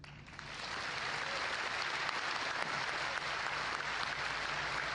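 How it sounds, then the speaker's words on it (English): Audience applause at a keynote during Fanfest 2012 builds from a quiet start into a steady, dense clapping of a large crowd that holds evenly throughout. "I want to take this opportunity for you to give a round of applause to the people at nVidia that worked on this with us"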